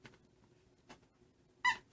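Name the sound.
squeaky dog toys squeaking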